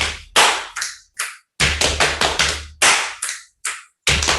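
Crisp claps and finger snaps repeat in short rhythmic clusters separated by gaps of silence, close-up and clear, with no talking.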